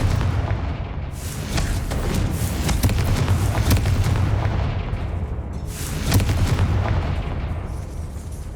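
Confringo blasting spells from Hogwarts Legacy explode in heavy rumbling booms, several blasts rolling over a dense, loud game soundscape with no voices.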